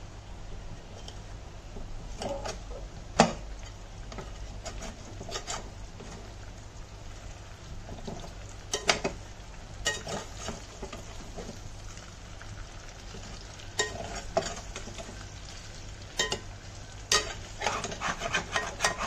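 Raw banana slices fry in an uncovered pan over low heat, with a steady soft sizzle. Spoon stirs scrape and clatter through the food in repeated bursts, and no one speaks.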